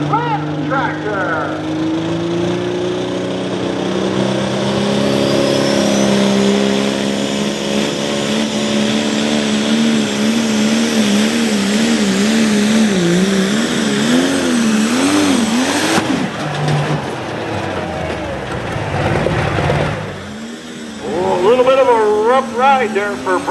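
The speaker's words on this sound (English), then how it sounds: "This is Brent Schubert out of Seaman, Ohio with the Blanton tractor, John Deere 6215R" A John Deere 6215R tractor revs hard at a nighttime tractor pull in Langford, New York, its loud engine climbing and wavering in pitch under an announcer's amplified commentary, then dropping off and surging again.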